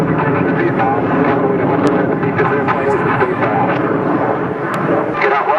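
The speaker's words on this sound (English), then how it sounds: "As you see the raw fuel being burned right at the exhaust of the jet." A MiG-17 jet flying an air show demo at the River City Air Expo produces a loud, continuous roaring rush of engine noise, with a voice talking underneath.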